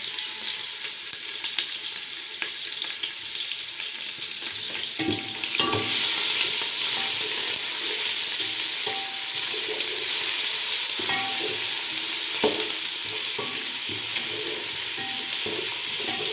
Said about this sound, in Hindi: उसके बाद हम इसमें लहसुन का पेस्ट और अदरक का पेस्ट जो वो ऐड कर लेते हैं और इनको अच्छे तरीके से फ्राई कर लेते हैं